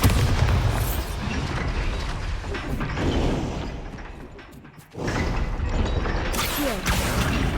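A Bombarda blast booms and crashes in Hogwarts Legacy, a loud heavy burst with rumbling debris that fades, then a second strong impact hits with clattering aftermath.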